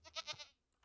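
A Minecraft goat gives a short bleat, a few quick wavering pulses rising and falling in under half a second, fairly faint and clear with no talking over it.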